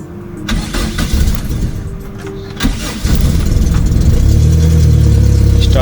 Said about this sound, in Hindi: स्टार्ट हो गई है जी माशाल्लाह, पर इसकी वही वाली सेम वही आवाज़ सिलेंसर की।